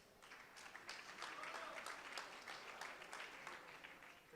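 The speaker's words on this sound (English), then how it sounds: "Please give a round of applause for Widow Games." A conference audience at a startup pitch event claps for the next startup being introduced, a fairly faint but steady round of applause lasting a few seconds.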